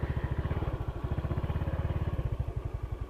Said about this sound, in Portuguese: Vou deixar a moto ali na sombra.